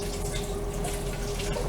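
Rinse water drains out of a batch of home-grown mung bean sprouts in a continuous close trickle and splash, steady for its brief length with no voices.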